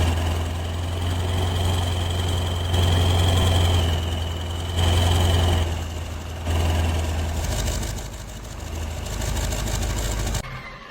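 An ATV engine idles steadily in a video game, a low, even rumble with a faint high whine above it. The level swells slightly a few times, then the rumble cuts out near the end.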